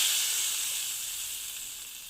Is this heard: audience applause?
no